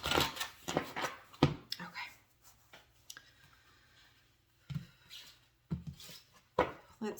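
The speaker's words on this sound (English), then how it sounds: "One more shuffle." A deck of tarot cards being shuffled at close range in a series of crisp, papery riffling bursts, with quiet pauses between handfuls.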